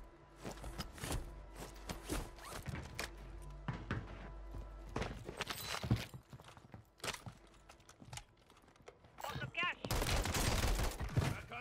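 Rapid bursts of automatic gunfire crackle through a Warzone 3 match, with sharp shots in uneven clusters, footsteps and other game effects, a dense burst near the end, and a player talking at points.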